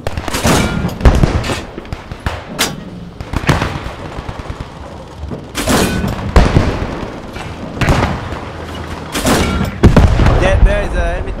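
Shots fired in a Squad 44 battle as smoke rounds are launched in support of infantry, loud repeated bangs and blasts in irregular bursts with some overlapping explosions, mixed with occasional voices.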